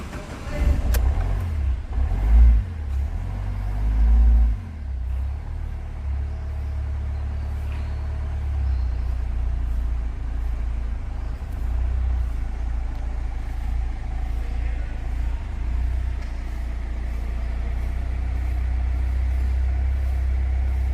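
Ford EcoSport with a rail pressure sensor fault cranking and firing up, then settling into a steady low engine rumble that runs close and continuous for about twenty seconds.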